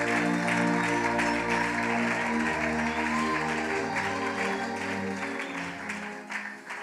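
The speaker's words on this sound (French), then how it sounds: "Acclame ces dieux-là fort puissants" A church congregation claps and cheers loudly during a deliverance prayer service, with dense sustained applause and crowd voices over a backing of music that fade slightly toward the end.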